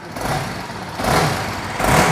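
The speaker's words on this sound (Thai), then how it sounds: "เราฟังเสียงท่อคันนี้กันนะครับ" A 2018 BMW G310GS motorcycle engine idles with a steady low rumble, then revs up in two quick bursts, exhaust note rising and falling sharply, close by.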